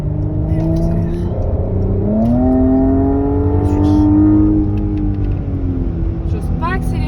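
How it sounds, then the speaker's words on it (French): Inside a Porsche Cayenne on the Nürburgring, the engine rises steadily as the car accelerates, a close, moderately loud drone climbing in pitch, with brief voices at the end. "Et on accélère."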